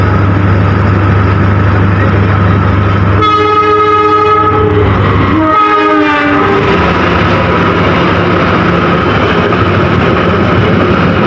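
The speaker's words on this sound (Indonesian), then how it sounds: "Ini dia kereta api Kertanegara dari stasiun Malang dan tujuan akhir stasiun Purwokerto melintas langsung" The Kertanegara passenger train passes straight through Garum station, its horn sounding loud and close in two long blasts over a steady heavy rumble and rail noise.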